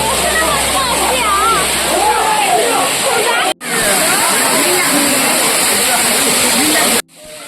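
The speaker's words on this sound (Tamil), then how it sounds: "இங்கே பாருங்களேன், சத்தம், அந்த தண்ணியோட சத்தமே நல்லா இருக்கு." A waterfall at Yelagiri pours down in a loud, constant rushing hiss and splash, close by, briefly cut twice, with no talking.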